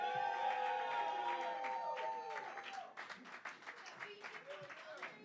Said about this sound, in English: You guys are only cheering because I give you food.